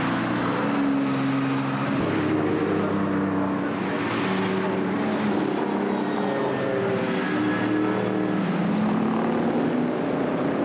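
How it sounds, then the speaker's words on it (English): Racing cars pulling out for a race restart, a dense, continuous roar of several engines droning and shifting pitch together, loud and steady throughout with no break. "Cars coming out now for the restart, and the race now is over 12 laps."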